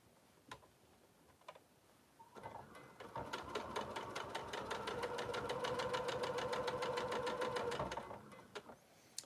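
A sewing machine runs steadily for about six seconds, stitching a quarter-inch seam on fabric pieces for a sling bag. The needle taps rapidly and evenly, and the stitching starts and stops with a few faint clicks around it.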